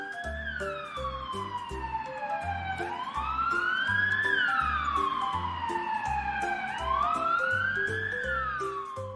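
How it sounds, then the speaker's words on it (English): Ambulance siren in a children's cartoon, a steady rising and falling wail over a bouncy music bed, loud and continuous throughout. "Ambulances take people to the hospital fast. Wee oo, wee oo."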